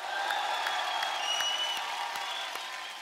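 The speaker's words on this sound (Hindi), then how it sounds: "और हमारे म्यूजिशियन दोस्तों के लिए जोरदार तालियां हो जाएं।" Audience clapping for musicians at a comedy show, a dense steady patter of applause with a few sharper claps standing out, sustained at even loudness.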